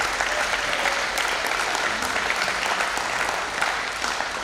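Sustained applause from an audience at a fall activities awards ceremony, a steady, fairly loud patter of clapping with no pauses.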